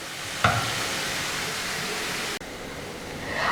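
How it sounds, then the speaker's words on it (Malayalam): Onions for a spicy chicken fry sauté in a hot pan, giving a steady close sizzling hiss with a stirring clatter near the start and a short dip in the noise later, no voices. "ഇനി ഇത് നന്നായിട്ടൊന്ന് വഴറ്റി കൊടുക്കുക"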